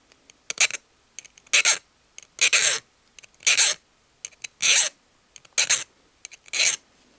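A metal file cuts a chamfer on a Ruger 10/22 bolt in about eight short rasping strokes, evenly spaced with brief pauses between them, close and distinct with no talking.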